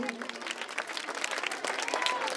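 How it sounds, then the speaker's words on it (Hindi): An audience at a patriotic Hindi poetry event claps on request, a busy patter of hands heard under a speaker's voice and a faint musical tone. "एक बार आप लोग जोर में ताली बजाएं"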